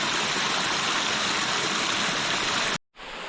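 Small water cascades of a clear mountain stream rush in a loud, steady, close wash of noise that cuts out abruptly near the end before resuming.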